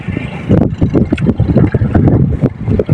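Strong wind blowing outdoors near open water, a loud continuous gusty roar buffeting the microphone with rumbling fluctuations throughout.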